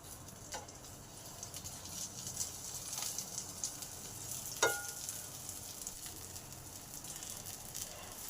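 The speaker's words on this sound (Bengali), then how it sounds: "পাঁচ মিনিটের জন্য চাপা দিয়ে দিই, যাতে বেগুনগুলো ভালো করে ভাজা হয়।" Eggplant slices pan-frying on low gas under a lid, a quiet steady sizzle with soft crackles and a few small ticks and clinks, one slightly sharper tap partway through.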